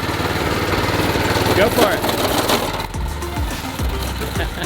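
Small engine of a homemade welded metal go-kart built by a 14-year-old runs and revs unevenly nearby, with a person speaking over it.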